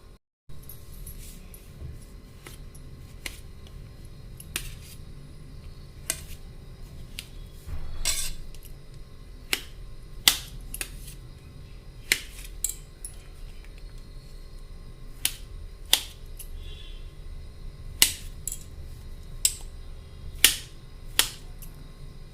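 A knife cutting through peeled kiwi fruit on a board makes a string of sharp, distinct clicks and taps spread at irregular intervals over a low room hum, with no talking.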